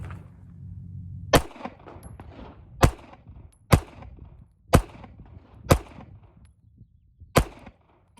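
Six loud, sharp pistol shots from an OA Defense Compact Pro ring out at a shooting range, spaced roughly a second apart with brief echoing decays, after a low steady hum at the start.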